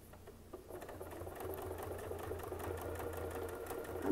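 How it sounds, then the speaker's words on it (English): A sewing machine running steadily while doing free-motion quilting, its rapid mechanical stitching hum fairly quiet and continuous. "I'm going to start sewing just a little bit faster so that I can get a smoother arc"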